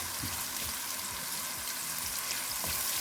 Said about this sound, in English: We'll let it fry a little bit